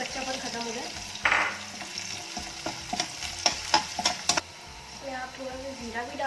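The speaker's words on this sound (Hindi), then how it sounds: "मुझे कच्ची प्याज नहीं पसंद, तो मैं प्याज को थोड़ा सा जो है वो फ्राई करूँगी इसी के अंदर" Onion frying and sizzling in a pan as it is stirred, with a steady hiss, a few scraping and clacking spoon strokes, and someone talking over it.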